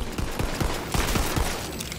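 Gunfire aimed at skeletons in a ruined hall in the video game Tiny Tina's Wonderlands: a rapid string of sharp shots pops steadily over a busy, noisy game soundscape, with no talking.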